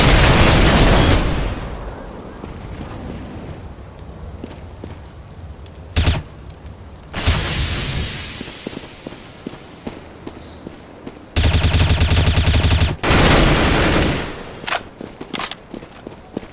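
Grenade and incendiary blasts mixed with gunfire in the shooter game Counter-Strike: loud booming explosions at intervals, with bursts of rapid firing and scattered single shots between them.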